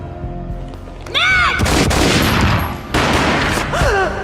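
Gunfire in a Max Payne comic dub: loud booming shots burst out in two sustained blasts, with rising whooshing effects before and after them.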